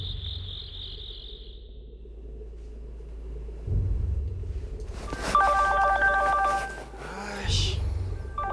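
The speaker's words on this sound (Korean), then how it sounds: "핸드폰 벨 소리가 요란하게 울리는 겁니다." A mobile phone rings at night with a loud, repeating electronic ringtone that cuts in over a quiet background of chirping crickets, in a dramatized ghost-story broadcast.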